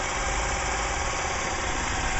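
A small engine running with a dry gearbox that holds no oil at all, giving a steady, loud, rough droning hum with a gritty mechanical rattle underneath, unbroken throughout.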